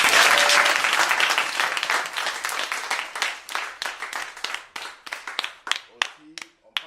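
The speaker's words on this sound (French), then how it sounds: "On applaudit. Voilà." An audience at a music event applauds loudly, the dense clapping gradually thinning into scattered individual claps that fade out over several seconds.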